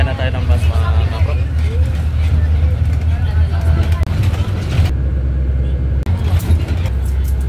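Riding inside a moving city bus in Muñoz, Quezon City, with a loud constant engine rumble and road noise, rattles and passing traffic, while someone talks over it.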